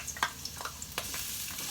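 Ginger and other aromatics frying in a pan, giving a soft steady sizzle with a few light scraping stirs, close and moderately quiet with no talking.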